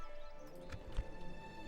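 Horse hooves clop a few times in a Woodland Realm battle scene from a strategy game, with muffled impacts over a low, steady ambient background.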